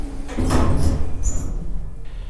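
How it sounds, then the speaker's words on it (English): A lift door sliding open in a building, a loud, smooth rumbling slide that starts abruptly and fades over about two seconds, heard alone. "The door slid open."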